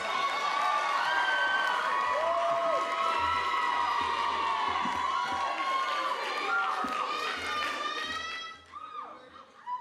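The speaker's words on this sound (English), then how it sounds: "Give a round of applause for our stage hands." College show audience cheering and applauding for the stage hands, loud whoops, shouts and clapping from a large crowd that fade out near the end.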